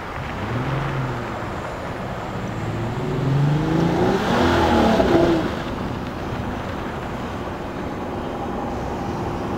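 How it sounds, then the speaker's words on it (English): A 2015 Chrysler 200C with a V6 engine and original tires brakes from 42 km/h on a winter road in Calgary, Alberta, giving a swelling rush of road and engine noise that peaks midway and settles. "Pay attention to what happens to it when we hit the brakes at 42 kilometers an hour."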